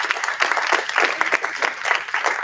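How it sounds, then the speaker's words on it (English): Attendees at a student government meeting applaud in a lively, even burst of hand claps, fairly close and continuous for a couple of seconds. "Another round of applause."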